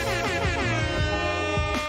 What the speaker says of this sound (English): I'm going to air horn myself again.